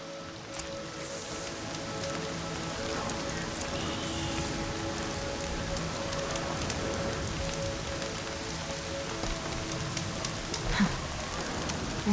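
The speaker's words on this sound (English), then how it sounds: "Rain's not so bad." Steady rain falls in the video game Horizon Zero Dawn, a continuous dense patter on surfaces at even loudness throughout, with no talking.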